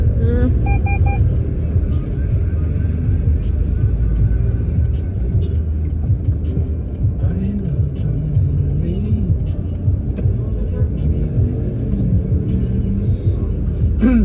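A Ford Explorer with a V6 engine rumbles past in close traffic, a steady loud low drone with a slight rise as it accelerates, with people talking over it.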